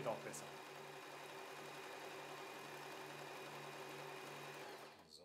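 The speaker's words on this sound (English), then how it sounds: "the machine is able to sew the stitches in such a way that the finished seam is stretchy" A W6 N 1800 sewing machine sews a stretch stitch, the fabric fed back and forth, with a steady, quiet whirring hum that runs continuously and stops near the end.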